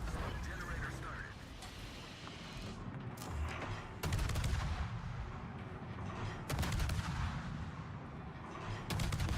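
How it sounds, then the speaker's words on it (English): Rapid burst gunfire from warship guns in World of Warships, with booming artillery blasts rolling over continuous battle noise and a voice talking throughout. "Hold down the burst fire button."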